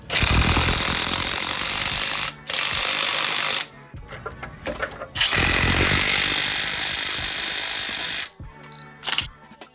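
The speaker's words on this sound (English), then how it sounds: "We're gonna tighten these all the way." Impact wrench tightening coilover bolts on a BMW 435i in a shop, loud rattling hammering bursts in several separate runs with short pauses between, then shorter clicks and rattles at the end.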